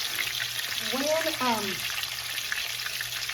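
A breaded steak (milanesa) fries in a pan with a steady close sizzle and crackle of bubbling oil, while someone talks briefly over it.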